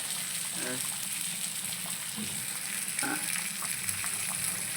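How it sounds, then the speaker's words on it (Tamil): Fish curry boils in a pot, making a steady bubbling hiss with occasional louder gurgles, while a faint, muffled voice surfaces briefly in the background. "இது மாதிரி எல్லా பக்கமும் நல்லா கொதிச்சிருச்சுன்னா குழம்பு இறக்கிடலாம்"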